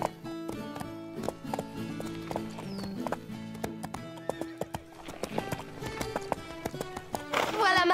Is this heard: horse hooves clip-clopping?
yes